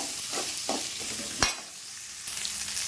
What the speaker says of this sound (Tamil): முருங்கைக்காய் போட்டு அதை கொஞ்சம் வதக்கி விடுவோம்